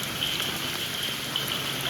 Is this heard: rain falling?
yes